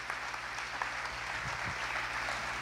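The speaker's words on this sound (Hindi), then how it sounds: "एक बार और तालियां बजाने का अवसर आपके पास है" Quiet, continuous clapping from an audience at an Ayurveda lecture event, a soft, even patter heard from a distance with no talk over it.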